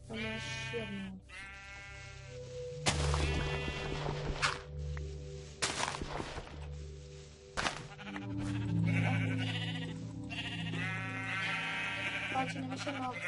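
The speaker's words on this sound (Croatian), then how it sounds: "Pa će nam još jedna ovca za kraj." Minecraft sheep bleating, a couple of short calls among footsteps and thuds in a survival game, with background music and a person speaking between them.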